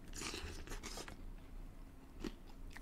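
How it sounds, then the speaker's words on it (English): A few quick crunchy snips of scissors cutting, close and crisp, with a brief pause before a final cut. "Scissors."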